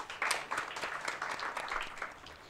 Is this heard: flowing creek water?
no